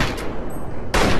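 A gunshot headshot in Fallout 3, heard as a sustained loud broadband blast that drops away briefly and then returns, close and alone with no talk.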